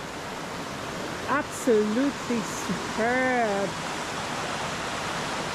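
Creek water flowing beside a campsite at Upper Davies Creek, a steady broadband rush running throughout the clip. Birdsong and a short burst of speech come up briefly over the water.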